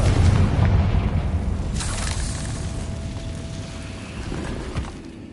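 A Confringo blasting spell explodes in a Hogwarts video game, a deep rumbling boom at the start that decays into a long low roar, followed by a brief faint sparkle, with no voices.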